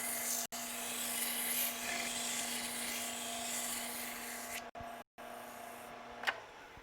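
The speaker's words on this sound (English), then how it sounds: "So all you're doing is really holding your sandpaper up to it" Sandpaper held against a piece of wood turning on a lathe gives a steady, close rubbing hiss with a faint constant motor hum beneath, broken by a few brief gaps and a small knock near the end.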